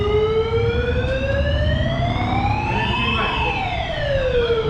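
A police siren wails steadily on a street in Kathmandu, a loud rising tone that peaks and then falls, heard up close over a low rumble of traffic.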